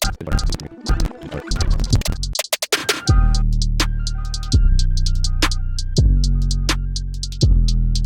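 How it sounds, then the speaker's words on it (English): Chopped, reversed electronic samples from an ice cream truck recording stutter in a rapid, chaotic burst, then settle into heavy repeating swells that swoop in every second or so. "It's a bunch of reverse samples playing back in a chaotic way"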